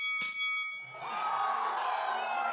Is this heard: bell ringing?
yes